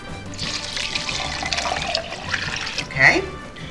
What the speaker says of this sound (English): So I'm going to add the 3 3/4 of water.